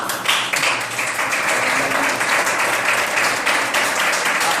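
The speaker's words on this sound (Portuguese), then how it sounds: "Caralho, foi aplaudido, hein, Romano?" Applause from a group bursts out loudly after a speech by prisoners about parole, a dense sustained clatter of clapping hands that carries on without pause.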